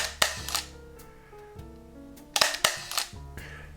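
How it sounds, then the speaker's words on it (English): A Leica's first digital M camera fires single shutter shots: a series of sharp, close mechanical clicks spaced apart, each followed by a faint whirring buffer sound, with no voices. "So that's the sound of the shutter"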